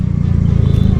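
Road traffic with many vehicles, a loud continuous rumble of engines and tires passing close by with no pauses.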